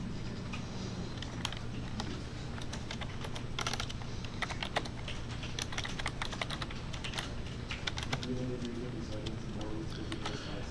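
Computer keyboard keys clatter in irregular bursts of quick taps while writing C# code, a steady stream of close clicks with pauses, under a continuous low hum and occasional speech.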